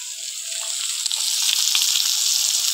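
Koi fish frying in a pan gives a steady, close hiss of sizzling oil with small crackles and pops, heard alone with no talking.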